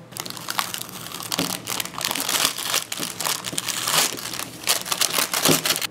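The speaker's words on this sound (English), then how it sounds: "so we can pull off the wax paper." Wax paper peeled away from dried fake prank ink, giving a steady run of close, loud crinkling and crackling paper noise with sharper tearing bursts throughout.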